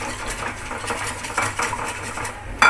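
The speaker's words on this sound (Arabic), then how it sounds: "هقلبها كويس،" A spoon stirring milk and flour in a bowl while making Egyptian cheese phyllo pastry, producing steady scraping clinks against the dish in an uneven rhythm, close and moderately loud.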